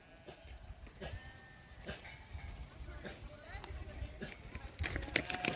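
Goats and sheep of a Bakarwal herd, gathered in the evening on the mountain heights near Srinagar, bleat repeatedly at varying distances over a bustling herd background, while someone talks nearby.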